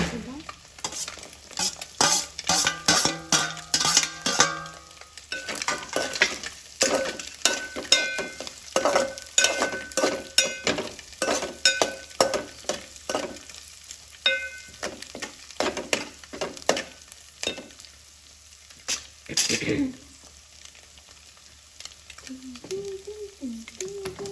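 Onions frying in a pan for egg noodles and being stirred, with a steady sizzle under repeated close scraping and clattering strokes of a spatula and a brief quieter pause near the end.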